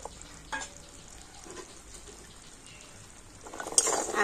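Sweets stirred in a pan of sugar syrup: soft continuous swishing and light bubbling with a few faint clinks, close and quiet, growing a little brighter near the end.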